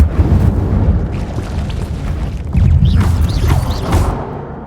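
Incendio fire spell cast in the Hogwarts Legacy video game, a loud sustained roaring blast with a rumbling low end and crackling bursts, steady for several seconds.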